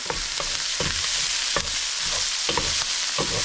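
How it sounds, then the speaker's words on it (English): Garlic and onions fry in a pan at a farmhouse, a constant close sizzle punctuated by repeated soft scraping strokes of stirring. "Give it a stir."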